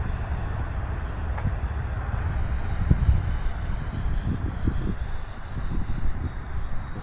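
A Freewing Mirage 2000C V2 80mm electric ducted fan RC jet flies overhead with a steady, loud whine and broad rushing roar, a high tone sustained throughout with occasional gusty rumbles, alone without talk.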